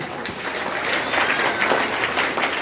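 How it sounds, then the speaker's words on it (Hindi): A seminar audience in Sarwan, Deoghar, Jharkhand claps steadily to welcome a speaker, a dense, continuous round of clapping from a large crowd that holds evenly through the whole stretch. "ये चलिए जोरदार तालियों के साथ स्वागत करिए"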